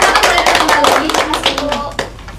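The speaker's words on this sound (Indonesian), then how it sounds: "tepuk tangan untuk teman kalian" A classroom of students claps for a classmate during a microteaching lesson: a short, dense burst of many hands, loud and close, thinning out toward the end.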